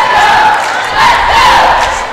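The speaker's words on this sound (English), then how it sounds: "the cheerleaders cheering their team on loud" Loud crowd cheering and yelling from cheerleaders and fans at a women's college basketball game, Averett against Pfeiffer, a sustained roar that swells in waves across the gym.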